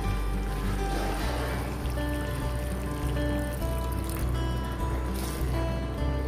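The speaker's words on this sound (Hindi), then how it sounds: "तो इस टाइम पे मैं इसमें थोड़ा सा पानी ऐड करूंगी।" Water is poured into a simmering chicken chaap gravy in a pot, giving a steady splashing trickle that runs continuously at close range without talk.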